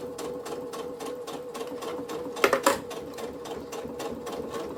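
A sewing machine stitching elastic onto a fabric diary pouch runs steadily in a fast, even rhythmic whir up close, with a brief louder clatter midway.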